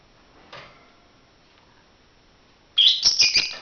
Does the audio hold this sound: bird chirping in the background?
yes